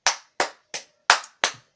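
Five sharp, close hand claps in an even, slow rhythm, each crisp and separate with silence between, a mock round of applause with no talking.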